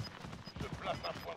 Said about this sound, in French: Ça tire sur nous.